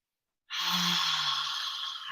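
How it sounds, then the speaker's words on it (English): One long audible exhale through the mouth during a yoga breathing exercise, a breathy, sigh-like rush of air starting abruptly after silence and held steadily to the end, close and clear. "inhale through the nose and an audible exhale"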